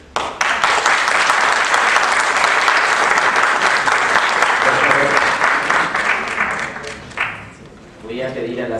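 An audience in a Lima lawyers' ethics tribunal hall bursts into loud, sustained applause that fades toward the end, as a voice begins speaking.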